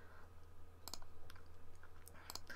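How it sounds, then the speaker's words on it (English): A computer keyboard key being pressed, a few light, crisp clicks spaced apart over a low, quiet background hum. "you press S on the keyboard"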